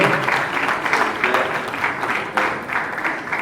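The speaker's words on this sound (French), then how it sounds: "Est-ce qu'on peut applaudir, s'il vous plaît?" An audience applauds at a gathering, a steady, moderately loud patter of many hands clapping together that rises and falls slightly throughout.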